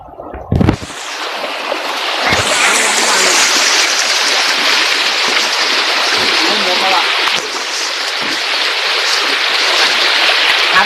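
Flowing water at an outdoor spot where people play, a steady, loud, close rushing wash that continues throughout after a brief splash at the start.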